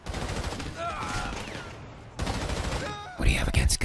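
Gunfire in Grand Theft Auto Online, rapid bursts of shots with a louder close volley near the end, mixed with game noise and some speech.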